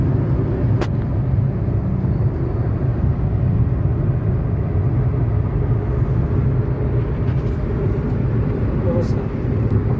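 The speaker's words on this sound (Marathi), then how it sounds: "आरामात गाडी शंभरला क्रॉस करते" A car cruising at speed along a straight expressway, past 100 km/h, makes a steady, loud road and engine rumble that holds for the whole stretch without a break.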